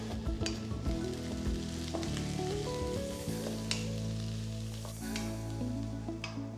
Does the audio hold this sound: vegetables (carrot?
yes